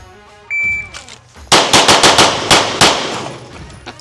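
Six rapid pistol shots fired in a bill drill on a shooting range, loud and close, sharp evenly spaced cracks after a brief electronic start beep, each shot trailing into a short echo.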